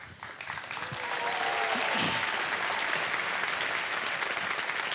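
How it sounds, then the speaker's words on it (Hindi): A studio audience on a quiz show bursts into applause for a winning contestant, the clapping rising quickly after a brief voice and holding as a loud, dense, sustained roar. "ताली बजते रहे इनके लिए।"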